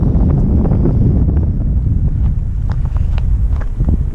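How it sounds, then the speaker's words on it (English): Strong outdoor wind buffets the microphone in a loud, continuous low roar with gusty rumble throughout, faint higher ticks scattered over it and no voices. "Okay, that's bloody wind."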